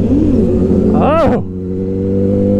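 A 2008 motorcycle engine running loud and close while wheelies are popped, its steady throaty drone lifting into a brief rising and falling rev swell before settling again.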